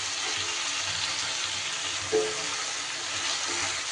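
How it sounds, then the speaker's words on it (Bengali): Ginger and garlic frying in a little oil for a potol chingri curry, a steady close sizzle throughout with a faint stir or clink partway. "আদা রসুনটাকে আমি একটুখানি তেলে কষিয়ে নিচ্ছি।"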